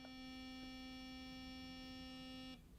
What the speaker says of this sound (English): It's quite a strong humming slash sort of vibrating sound.